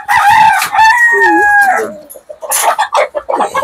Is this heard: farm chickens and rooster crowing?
yes